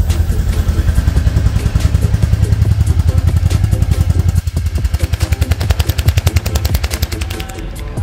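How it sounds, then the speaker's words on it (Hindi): A 2024 Royal Enfield Bullet 350 motorcycle engine revving, its rapid, heavy thumping exhaust beats pulsing loud and close, rising and falling with the throttle over a steady idle rhythm, no speech. "अब मैंने बाइक स्टार्ट कर दी है तो सुनाते हैं इसके थ्रॉटल को।"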